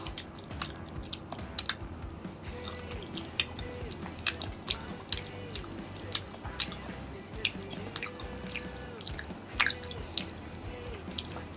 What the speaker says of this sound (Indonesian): Ini gue kunyah sampai halus-halusnya.